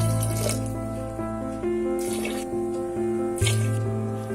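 Water pours steadily into a pan while preparing Karnataka-style bonda soup with tomatoes, turmeric and salt, a continuous splashing trickle heard close up with no talk.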